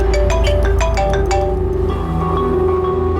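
A phone ringtone in a Hindi crime drama plays as a quick series of bright, repeated chiming notes, loud and close, then gives way to a steadier tone under a low background rumble.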